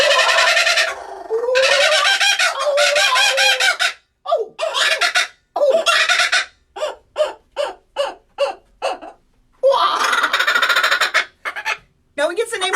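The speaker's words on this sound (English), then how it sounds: "He gets the name Laughing Kookaburra because of that crazy laughter sound." A laughing kookaburra's territorial call: a raucous, rising cackle in rhythmic bursts, loud and close, breaking into a chattering laugh-like chorus with brief pauses between phrases.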